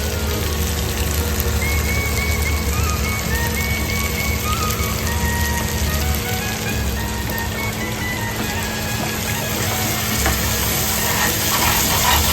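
Oysters fry on a hot tawa pan with a loud, continuous crackling sizzle that sounds almost like rain, joined by occasional faint stirring and no speech.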